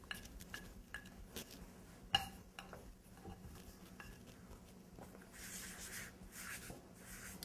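Cracker dough is rolled out on a floured counter, soft dull knocks and light scraping taps of the rolling pin landing at an uneven pace, faint and close in a quiet room.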